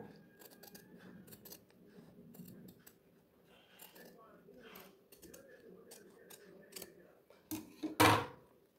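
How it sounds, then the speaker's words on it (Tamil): Scissors snip through fabric while cutting out a back neck collar for a salwar suit. Close, irregular crisp cuts with small handling knocks end in a louder final snip. "இந்த மாதிரி தனியாக கட் பண்ணி எடுத்துக்கலாம்"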